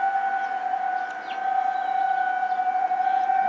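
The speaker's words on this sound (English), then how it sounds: "This is actually what they call them, severe weather sirens or something. It's not actually just a tornado siren." Tornado severe weather sirens sound outdoors in Indianapolis, a steady sustained wail heard at moderate distance, continuous without breaks, with faint background noise.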